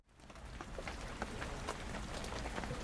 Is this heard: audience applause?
no